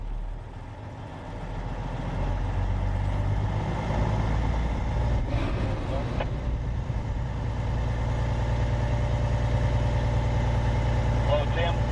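A Class 1 truck's diesel engine idles steadily through a pre-trip air brake check, a low constant rumble with a brief burst of hissing air midway and faint mechanical clicks near the end.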